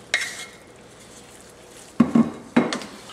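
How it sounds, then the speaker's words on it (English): Shrimp are spread over rice in a skillet, with a metal utensil clinking and scraping against the pan in a few short bursts and quiet pauses between them. "we're going to take our shrimp and we're going to spread this out over the rice."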